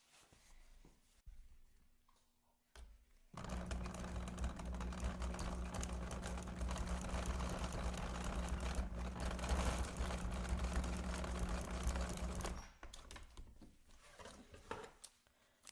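A sewing machine stitching a cup purse inspired by a soda fountain cup, running in a steady whirring burst for about nine seconds between quieter handling sounds at either end.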